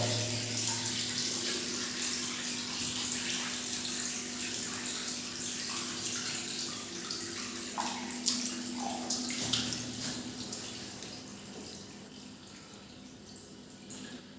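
Steady rushing and trickling spring water wells up around a Shiva lingam in a temple, flowing continuously, with a few gurgles and splashes rising near the end.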